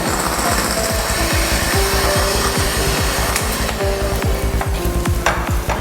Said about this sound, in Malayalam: ഇതിലേക്ക് നമ്മൾ അരിഞ്ഞ് വെച്ചിട്ടുള്ള ഉള്ളി ആഡ് ചെയ്യും